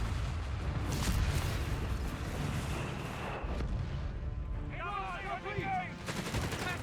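Gunfire and blasts from a Company of Heroes 3 match where a satchel charge detonates, with a steady din of shots and explosions under a commentator's voice.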